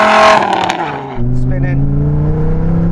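A Dodge Viper accelerating hard with wheels spinning, a loud rising engine note that dips and then climbs again with a steady sustained tone.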